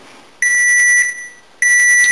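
Dashboard chime in a Toyota Yaris as the ignition is switched on: two bright electronic tones, the first held about a second and the second starting after a short gap, loud and close inside the quiet cabin.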